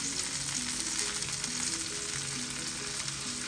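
Fresh coriander leaves sautéing in a pan with other ingredients for a kebab gravy: a dense, steady sizzle close by, with a low background hum and no talk.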